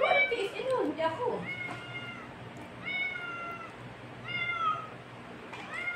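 A house cat meows several times in a row, moderately close, with clear rising and falling calls spaced a second or so apart, while people talk in the background at the start.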